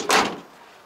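A used car's door pushed shut at a Japanese dealership, with no soft-close mechanism fitted. It lands as a single loud, close thud, then fades into quiet room tone.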